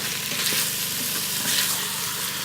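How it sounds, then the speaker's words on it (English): Steady, loud sizzling and crackling of chicken frying in an Instant Pot for pulao, continuous throughout with no talking. "Let the chicken fry for 5 minutes until the chicken turns brown"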